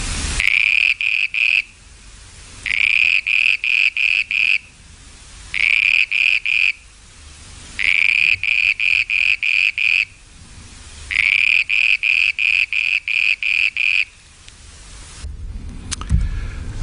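A lowland toad from the Himalayas calls near rice paddies in loud, repeated bursts of rapid trilling pulses, each lasting about a second or two, separated by short quiet gaps, heard close and alone.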